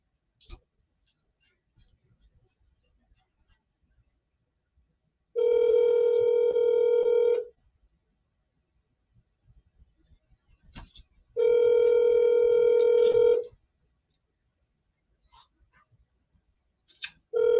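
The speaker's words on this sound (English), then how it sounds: "Come on, Jillian, pick up the phone." Two long ringback tones of an outgoing phone call waiting for an answer, each lasting about two seconds with a pause between, steady and clear, with faint clicks and brief talk in the gaps.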